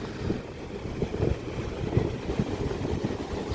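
Ocean waves roll and wash at Legian Beach, Bali, after rain, a steady rumbling surf with irregular surges, mixed with wind buffeting the microphone, moderately loud throughout.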